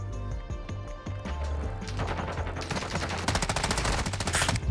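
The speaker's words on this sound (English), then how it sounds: "Dude started shooting." Rapid automatic rifle fire from a TAQ-56 assault rifle in Call of Duty: Modern Warfare 2, with dense, continuous bursts over a loud game soundscape that grow busier toward the end.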